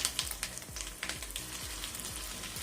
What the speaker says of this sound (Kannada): ಇವಾಗ ಸಾಸಿವೆ ಸಿಡಿಯೋದಕ್ಕೆ ಸ್ಟಾರ್ಟ್ ಆಗಿದೆ